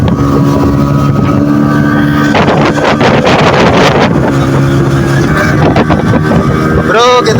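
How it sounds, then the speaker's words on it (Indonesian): A speedboat races at about 60 km/h on the Musi River in Palembang, its engine droning loudly under heavy wind buffeting and rushing water, with a burst of splashing spray midway. "Bro, kita naik kapal boat 60 km per jam"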